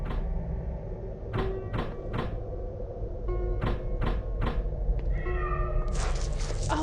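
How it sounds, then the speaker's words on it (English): Cat meowing in the video game The Lost Crown, several short separate meows spaced through the scene over a low ambient hum, followed by a brighter sliding, creaking sound at the end. "Oh, it's a cat."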